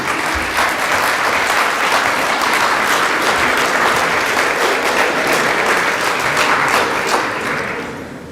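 Sustained audience applause fills the space at a community investment event, a dense, steady roar of many hands clapping for a second round, tapering slightly toward the end.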